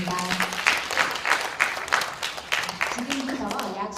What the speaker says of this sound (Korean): 좋은 강연 해주신 이찬우 강사에게 다시 한번 큰 박수 부탁드리겠습니다